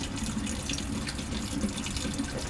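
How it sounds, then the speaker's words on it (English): A lab tap runs steadily while a pipette is rinsed under it, a continuous close splashing hiss of water with no talk. "Rinse my pipette"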